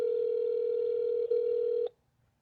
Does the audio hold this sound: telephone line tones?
yes